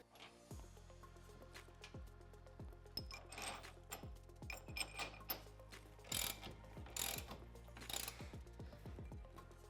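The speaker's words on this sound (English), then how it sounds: "Then we can use our 17mm socket to tighten these down." A socket ratchet with a 17mm socket tightens bolts while a Tusk upgrade kit is installed on a Polaris General XP 4 1000 UTV. Quick bursts of close, crisp clicking repeat steadily throughout, with no voices.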